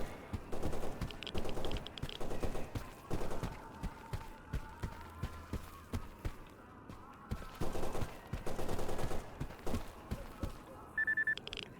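Bursts of gunfire ring out in the shooter Stalker Anomaly, loud clusters of shots spaced irregularly, mixed with footstep-like thumps and a sustained tonal hum in the middle.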